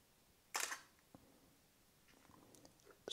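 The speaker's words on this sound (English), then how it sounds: "I tried to set the mechanical shutter, and to my surprise, the camera was able to shoot" A single crisp mechanical shutter click from a Fujifilm X-E3 camera under repair, close and sharp, followed by faint small handling clicks in a quiet room.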